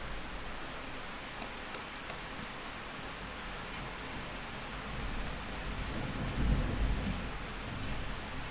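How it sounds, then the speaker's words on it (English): Steady rain falling outdoors, a soft continuous hiss of drops on surfaces, faint and even, swelling slightly with a low rumble toward the end. "Yeah, I can hear the rain. It's kind of soothing."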